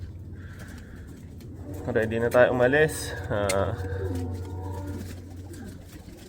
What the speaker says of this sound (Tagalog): Pakita ko muna sa inyo yung mga ibon ko saglit.